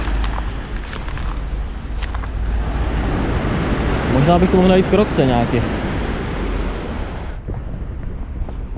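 Sea waves break steadily on a beach in the capital of the Dominican Republic, with a constant roar of surf and wind buffeting the microphone, and someone talking over it.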